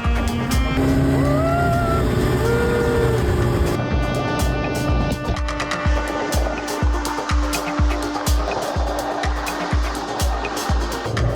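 Motorboat ride on wavy Lake Balkhash, a loud continuous engine drone with wind and water rush, settling into regular thumping slaps as the hull hits waves.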